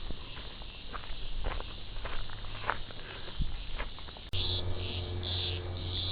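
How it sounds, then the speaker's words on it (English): Cicadas on a bush walking track in the Blue Mountains, a steady high insect drone that grows louder and more pulsing partway through, with footsteps crunching along the path underneath. "Plenty of cicadas around here."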